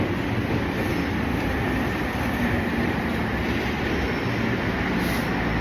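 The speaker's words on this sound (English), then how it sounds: "And here's my train." A train in a Tokyo station at Takadanobaba rolls close by with a steady, loud rumble and faint wheel clatter, a dense continuous roar with no talk over it.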